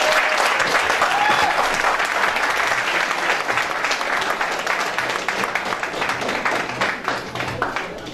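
A room full of people applauds at a talk on Haitian identity and Vodou spirituality, a continuous dense wash of clapping that stays loud and even for the whole stretch, tapering slightly near the end.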